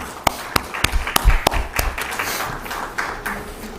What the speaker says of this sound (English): A big applause to them.